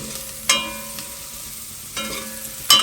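A spoon stirs vegetables frying in hot oil, likely brèdes mouroum greens, in a pan. A steady close sizzle is broken by three scraping stirs, with no talking.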